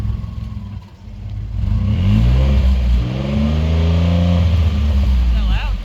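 Ford F-150 V6 pickup with a new aftermarket exhaust revving outdoors: a deep rumbling idle climbs into a couple of loud, rising revs, with people talking faintly.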